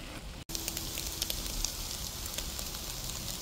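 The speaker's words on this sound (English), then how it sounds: "I added water so to let the vegetables steam." Vegetables steaming in a pan with about a quarter cup of added water while making Asian fried rice give a steady close sizzle and hiss, broken by a brief silent dropout near the start.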